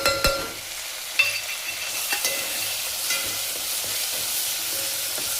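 A coconut, garlic, ginger and coriander paste for sambar fries in a pan with onion, giving a steady close sizzle, with a few scrapes and clinks of stirring early on.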